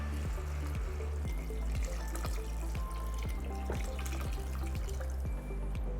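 Water runs steadily into a pot of vegetable soup on the stove, a continuous trickling pour heard close and alone with no talk.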